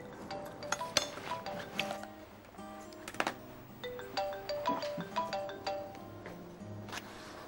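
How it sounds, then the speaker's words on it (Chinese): A mobile phone ringtone plays a bright repeating melody of chiming notes, fairly close and alone for several seconds. "电话响了"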